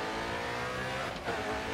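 Nissan 370 drift car in Grid 2, fitted with a 5.6-liter V8, holding a steady loud engine roar throughout with a brief dip and swell near the end, no talk.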